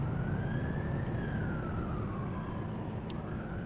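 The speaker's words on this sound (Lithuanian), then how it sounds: "Kažkur sirenos kaukia." A fire engine siren wails through traffic in a slow rising and falling sweep, carried over a constant low rumble of passing vehicles, moderately distant.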